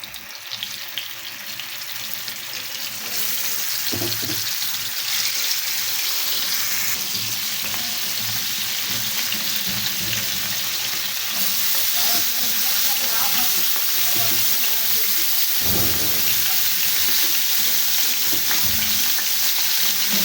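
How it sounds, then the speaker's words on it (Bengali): Small fish sizzling steadily in hot oil in a village kitchen, a loud continuous crackling hiss that builds early and holds strong, with occasional stirring noises and no voices heard. "তেলটা গরম হয়ে গেছে এখন আমি মাছগুলো দিয়ে দেবো"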